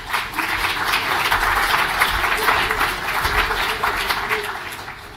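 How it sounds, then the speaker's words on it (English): A main-stage audience at a panel on Indigenous storytelling applauds the panelists in a dense, continuous wash of clapping that holds steady for about five seconds, with a low background hum underneath. "Please give them a round of applause"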